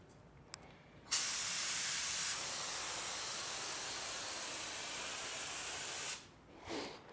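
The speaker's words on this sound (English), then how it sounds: "So right now we're going to spray the activator" Activator is sprayed onto hydro dip film in one continuous hiss lasting about five seconds, close and fairly loud, with no one talking.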